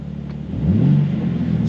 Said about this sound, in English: Always courtesy rev.